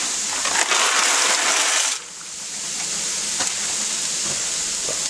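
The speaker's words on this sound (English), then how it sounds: "It's time to go ahead and add the noodles." Dry pasta noodles tossed into a pot for Greek pastitsio, a loud crackling rush that cuts off sharply, followed by a steady close hiss and sizzle from the pot.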